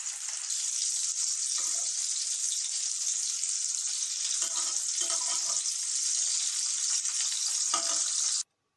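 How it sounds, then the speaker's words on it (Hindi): Chicken reshmi kababs fry in a pan with a steady, bright hiss of sizzling oil, broken by a few louder crackles, before cutting off abruptly. "कबाब फ्राई होने रख दिए"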